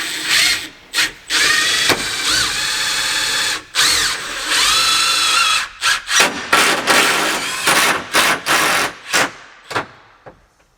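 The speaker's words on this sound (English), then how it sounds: "I need to screw this so the plywood doesn't move on me" A power drill drives screws into plywood inside a van build, with repeated whirring runs and ratcheting clicks and several short stop-start bursts close by.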